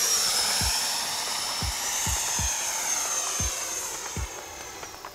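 A Freewing F-16 90mm RC jet in flight gives a steady high whine of its ducted fan that slowly shifts in pitch. Softer low thumps recur in the background throughout, with no talk.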